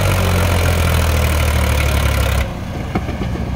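A JCB 3DX backhoe engine runs beside a stuck, fully loaded Powertrac Euro 47 tractor and trolley, a loud, close, steady rumble that drops sharply partway through and continues at a lower level.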